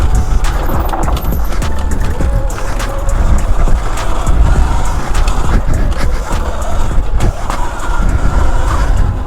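79BIKE Falcon Pro 72V electric bike ridden flat out over rough ground: continuous wind and rolling rumble, with knocks and rattles from the trail and a faint motor whine.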